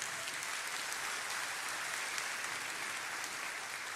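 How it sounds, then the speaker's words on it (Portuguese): A church congregation applauds during a sermon, with steady, dense clapping that holds at an even level the whole time and no talk over it. "Pode aplaudir ao Senhor."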